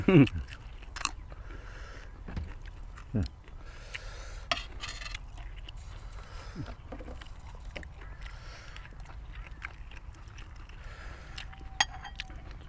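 Crunchy food, spicy jaew dip with blanched intestine, is chewed outdoors beside a fish pond in rice fields, with irregular close crunches and bites over a steady low background noise.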